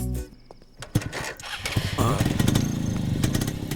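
A motorcycle engine starts and settles into a loud, close idle that runs steadily after a burst of clatter, in a scene from a Hindi-dubbed action movie.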